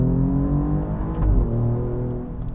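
A 2023 Alfa Romeo Giulia Quadrifoglio's engine growls loud and close, holding a deep steady drone that swells briefly as the revs climb mid-way.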